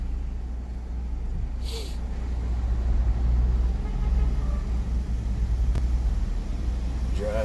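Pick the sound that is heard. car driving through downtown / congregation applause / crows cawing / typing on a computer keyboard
car driving through downtown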